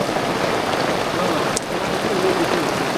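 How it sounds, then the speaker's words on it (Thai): Steady rain falling on a house under construction, a dense continuous patter on surfaces, close and even, with a brief faint sharp knock partway through. "ฝนตกบัดนี้เอ้าทำอะไรไม่ได้เลย"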